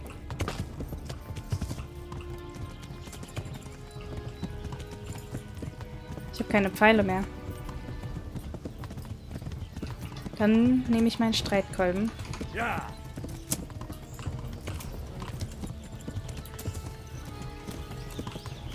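Horse hooves clip-clopping at a steady ride in the Kingdom Come: Deliverance video game, continuous rhythmic hoofbeats under someone talking excitedly, with brief louder bursts of speech.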